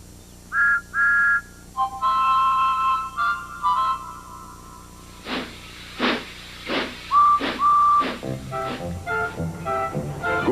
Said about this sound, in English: That sounds like a very good engine whistle.